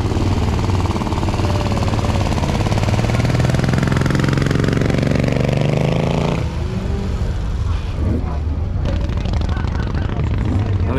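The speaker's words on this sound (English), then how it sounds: "Sounds like the Morgan three-wheeler that's broken down is now starting again, so he's going to be able to maybe get up the hill" A Morgan three-wheeler's engine clatters and rasps at a hill-climb start line after breaking down, pulling away in a loud, close, jackhammer-like staccato that shifts in pitch as it drives off.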